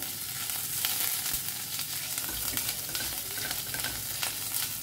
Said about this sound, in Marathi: सो मातशें ताका न्ही फ्राय करून घेयात.